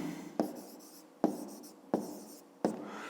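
Pen strokes scratching across paper during a maths lesson, four separate bursts of writing each starting with a sharp onset and trailing off, close and fairly quiet, with no voices.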